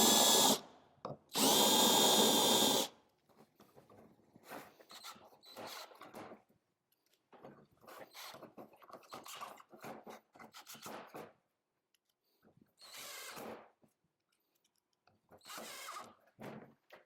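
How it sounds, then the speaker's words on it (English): Power drill countersinking holes so sheetrock screws sit flush in a horse hospital plate: two loud, sustained whirring bursts at the start, then a series of shorter grinding and rasping bits of drilling close by, with no speech. "I'm going to countersink so my sheet rock screws can sink in there nice."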